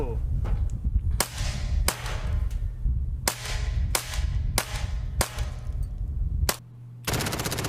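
Sharp single shots from an MP7 submachine gun in single-fire mode, about seven distinct cracks spaced roughly half a second to a second apart, loud and close with ringing decay, ending in a burst of buzzy noise.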